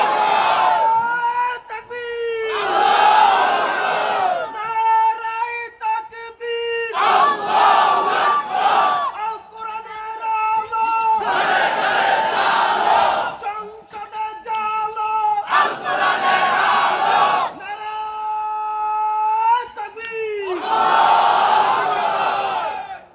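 A large crowd answers a preacher's call at a Bengali religious gathering with loud, repeated shouts of the takbir, roaring chant bursts of a second or two alternating with the leader's amplified voice in a steady call-and-response.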